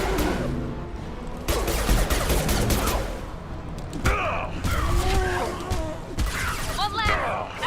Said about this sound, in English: I'm trying to shoot it at the ground